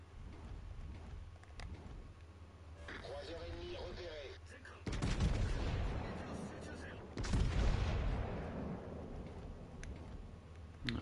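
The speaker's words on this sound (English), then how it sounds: "All stations, concentrate fire on the target." Naval guns fire in World of Warships Legends, with two heavy booming salvos and rolling rumble rising over a continuous dense background of battle noise.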